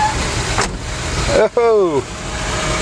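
A Cadillac's engine, its carburetor newly repaired, runs steadily as the car sets off for a drive, a continuous close mechanical drone with a brief exclamation from a person near the middle.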